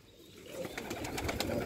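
Rare Sialkoti chuha pigeons on a rooftop, soft repeated cooing and fluttering close by with faint background noise, no talking.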